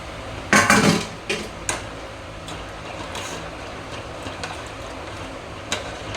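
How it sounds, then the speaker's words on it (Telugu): Gram flour batter poured into a pan of fried onions and tomatoes, a short burst of wet clattering and splashing near the start followed by a few light clinks of a utensil against the pan, then quiet. "ఇప్పుడు ఇందులో పోస్తున్నాను"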